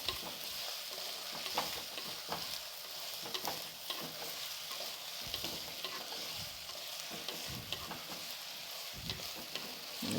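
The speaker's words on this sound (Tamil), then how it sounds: "கத்திரிக்காயை இந்த எண்ணெயிலேயே நம்ம நல்லா வதக்கிக்கலாம்" Brinjal sautéing in oil for a karamani kara kuzhambu, a soft, steady sizzle with occasional stirring scrapes, fairly quiet and with no voices.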